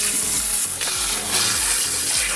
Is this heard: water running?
yes